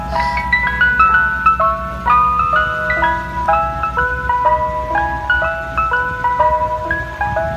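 Mister Softee ice cream truck chiming its jingle, a bright, steady loop of bell-like notes playing loud and close over a low engine rumble, with no voices.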